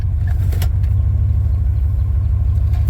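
The engine of a 1997 Dodge Ram 1500 runs at a steady, close low rumble as the truck is shifted between gears, with only a slight dip in pitch and no speech.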